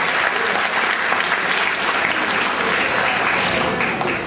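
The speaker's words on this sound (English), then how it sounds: "A round of applause for her, please." Audience applause at a university commerce alumni awards ceremony, a dense, steady roar of clapping hands that carries on evenly for several seconds without talk.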